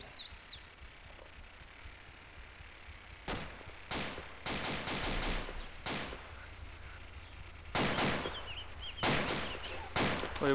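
Sporadic gunshots from a mercenary campaign military mission in a video game, sharp cracks in short bursts spread over several seconds against a quiet outdoor background with faint bird chirps.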